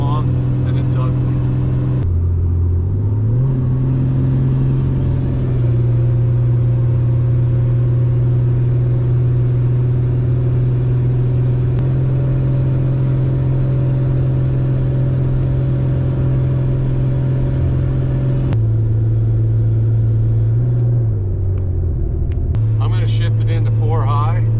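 A vehicle climbs a long, steep grade in four-wheel high, its engine droning in a loud, steady low hum that shifts pitch a few times as it labors upward.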